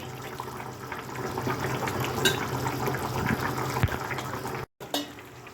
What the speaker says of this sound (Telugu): చూడండి ఉడుకుతుంది కదా ఉడుకుతుందండి